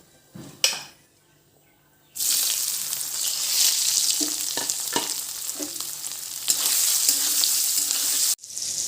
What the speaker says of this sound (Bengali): এখন আমি সয়াবিনটা ভেজে নেবো